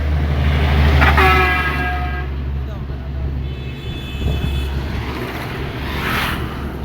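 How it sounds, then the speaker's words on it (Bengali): A truck passes at speed on a road near a bridge, a loud rushing engine roar with a horn blast early on, while someone talks over the traffic noise. "দেখেন একটা টাক আসতে আছে কত স্পিডে"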